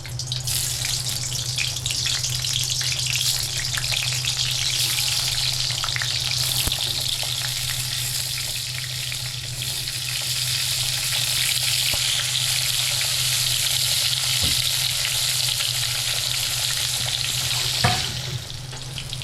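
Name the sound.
pointed gourd frying in hot oil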